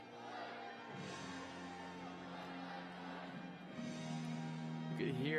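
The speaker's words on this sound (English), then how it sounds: "You could hear the Australians cheering for them." Australian supporters cheer from the stands at a jump rope championship, a faint, steady crowd roar with scattered shouts behind a sustained musical tone, building slightly toward the end.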